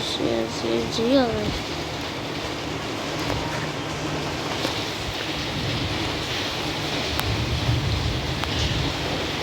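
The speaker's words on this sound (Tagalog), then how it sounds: "Grabe guys, ang lakas sa ulan." Heavy rain pours down in a continuous broadband hiss that fills the entire span, with a voice briefly sing-songing near the start before the downpour carries on alone.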